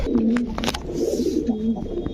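A pigeon coos up close in a loud, rolling, repeated call that keeps going, while faint background noise sits underneath.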